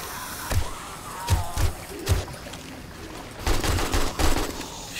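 A handful of separate gunshots from the survival game 7 Days to Die, some single and some in quick pairs, fire in a loose irregular rhythm against a busy background, while players occasionally speak.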